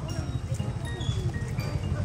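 Carabao walking in a parade beside a stream at the Magallon livestock market, giving a steady run of soft hoof clops under continuous crowd chatter and outdoor murmur.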